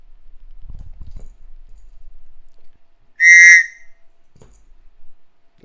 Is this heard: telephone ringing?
no